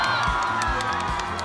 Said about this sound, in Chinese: 现在我们先把掌声送给戚薇团